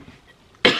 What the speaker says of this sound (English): It's talking that gets my cough going.